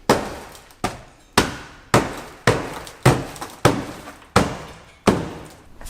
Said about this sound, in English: Body hammer.